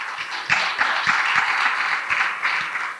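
Applause from an audience at a scholar-in-residence talk with clergy, a steady wash of many hands clapping at moderate distance that holds for the whole stretch.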